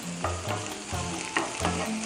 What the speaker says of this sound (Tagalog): So, after we saute the garlic, so let's put the onion. Red onion.